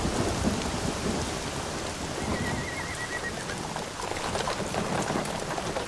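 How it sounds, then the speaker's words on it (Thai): A steady downpour hisses on surfaces while thunder rumbles through a thunderstorm. The storm sounds close and continuous, with no voices. "ฟ้าครึ้มแล้วเหมือนฝนจะตกเลย"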